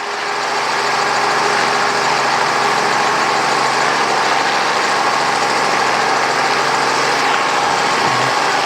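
A Robinson R44 helicopter sits running on the ramp, its engine and rotor producing a loud, continuous, steady drone that holds unchanged from start to finish.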